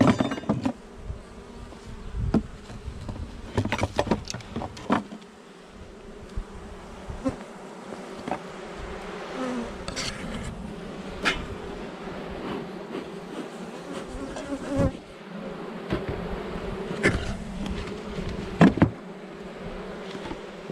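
Honeybees buzz continuously around an open beehive fitted with an inner cover and bee escapes, a close, droning hum with occasional sharper knocks and thumps from hive handling.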